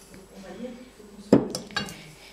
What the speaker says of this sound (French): On va les fouetter un petit peu.